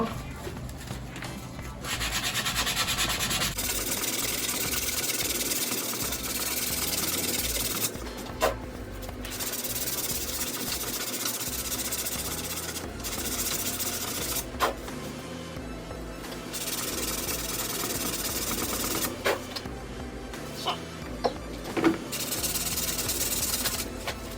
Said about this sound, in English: Hit that with some sandpaper. I got some 150 grit.